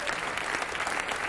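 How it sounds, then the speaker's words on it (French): Warm audience applause at a commemoration ceremony for the abolition of slavery following a singer's performance, a brief, full, steady burst of many people clapping. "Vous pouvez l'applaudir chaleureusement"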